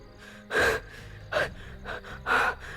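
An injured man pants out of breath, giving a few sharp, close gasping breaths in an uneven rhythm with no speech.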